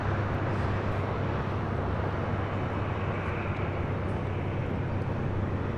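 An Allegiant Air A320 airliner arrives at LAX from Provo, Utah, a steady, broad roar of jet engines at moderate distance, continuous and unbroken, with no voices.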